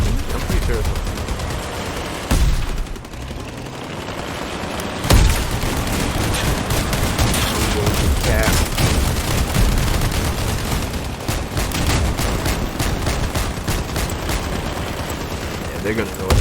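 Gunfire in the vehicle combat game Crossout, dense continuous shooting with sharp bursts and heavy impacts throughout, loud and busy with a few stronger blasts standing out.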